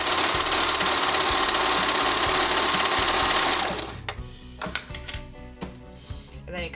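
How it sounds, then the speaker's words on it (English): A sewing machine stitches a hem on fabric, running in a loud, continuous close whir for several seconds before stopping, followed by scattered handling clicks and taps of the fabric and machine. "Then I turn my fabric around over to the front so that I can continue stitching the other way."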